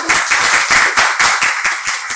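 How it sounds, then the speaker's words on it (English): Close, loud clapping at a breastfeeding conference welcoming a speaker, with distinct rhythmic hand claps of a few people in a steady pulse. "Let's give her a warm applause."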